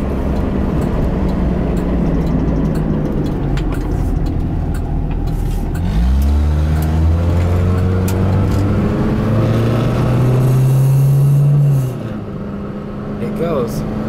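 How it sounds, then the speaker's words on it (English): A Buick Skyhawk J-body coupe downshifts mid-drive and its engine climbs in a strong rising rev, loud inside the cabin, then eases off; someone talks over the engine. "And it wants to downshift and go,"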